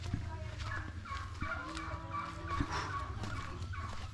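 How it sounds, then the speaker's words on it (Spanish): A turkey bought for a party in El Salvador gobbles in repeated rattling bursts close by, with people talking over it. "Es el guajolote para el. Para la fiesta."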